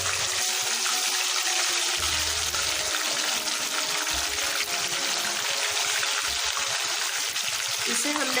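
Fish coated with garlic and carom seeds frying in hot oil for a masala fish curry, a steady loud sizzle and crackle that runs throughout with occasional low stirring thumps.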